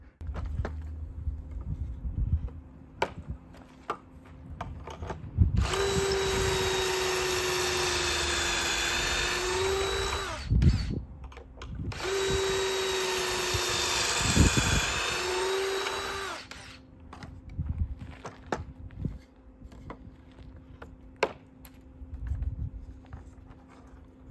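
A power drill bores holes in wood during a cheap DIY project, two sustained high-pitched whining runs of several seconds each, close and loud, separated by a short pause, with knocks and handling noise around them.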